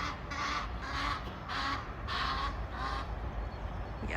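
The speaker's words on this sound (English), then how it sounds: "Especially all the birds making noises." Birds in the Dutch countryside give repeated harsh, honking calls in bursts over a steady outdoor background, moderately close and fairly loud.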